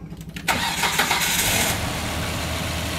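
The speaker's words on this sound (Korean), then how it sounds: "자, 시동 걸어보세요." A car engine cranks and fires up after a timing belt replacement with only the crank pulley fitted, a loud catch followed by a steady, smooth idle close by.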